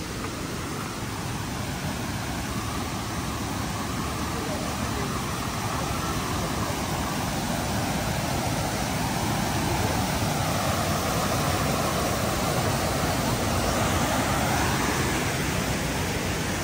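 Waterfall at Banias roars as a dense, steady rush of falling water, loud and close, filling the whole stretch without letting up.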